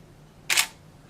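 A DSLR shutter fires once, a single short sharp click-clack standing alone in a quiet room, pressed by the thumb of a quadriplegic photographer.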